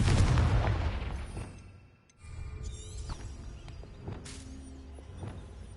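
Confringo explosive spell in Hogwarts Legacy on PS5, heard as a booming blast followed by rumbling decay, with a second burst of crackling impact sounds later amid game ambience.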